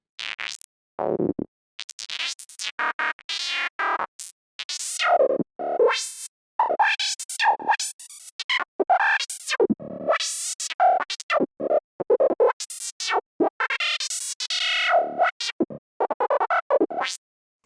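Psytrance FM synth lead patch built in Serum, with a texture control shaping its intensity: choppy, rapid bursts of bright, buzzy harmonic tones in quick gated stabs, loud and alone with no talk.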